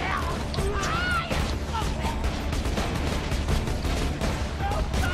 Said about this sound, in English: I'm now seeing giant explosions off in the distance.